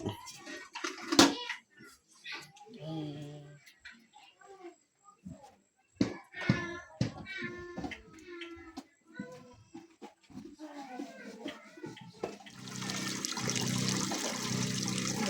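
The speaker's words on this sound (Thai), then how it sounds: "เมียเก็บถ้วยบวงเอาไปล้าง" Bowls being washed under running water outdoors in a rural village: clinking dishes and splashing, then a steady gush of flowing water near the end, with someone talking at times.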